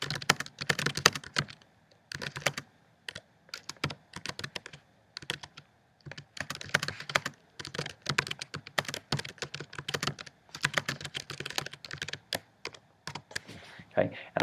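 Someone types on a computer keyboard in quick bursts of close, crisp key clicks separated by short pauses, with no one talking over it.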